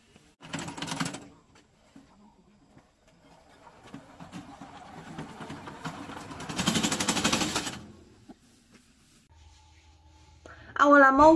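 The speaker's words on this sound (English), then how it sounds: "This is our remote controller mower." A remote-controlled brush mower runs with a mechanical rattling engine drone that rises and falls in bursts, with speech heard at points.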